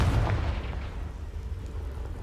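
A Confringo spell explodes in Hogwarts Legacy with a loud low boom at the start that rumbles and fades into a dull roar.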